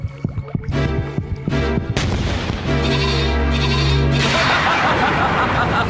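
A goat bleats in a repeated, wavering cry, loud and close, with a dense harsh noise swelling beneath it toward the end.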